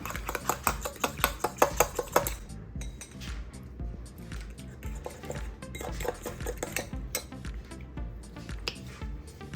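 A seasoning mix with honey, salt and paprika being stirred in a bowl, with a burst of quick, clinking utensil strokes at first, then softer, intermittent scraping and tapping close by.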